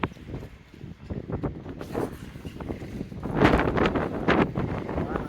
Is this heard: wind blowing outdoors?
yes